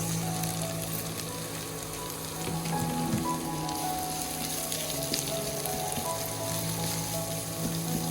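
Onion frying with chilli, salt and spices in oil for a pointed gourd bhaji in a village kitchen, a steady close sizzle and crackle with faint stirring throughout.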